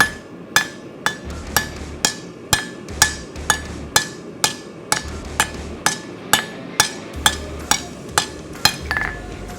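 Steady rhythmic hammer blows ring on metal, about two strikes per second, sharp and close with a bright metallic ping after each hit.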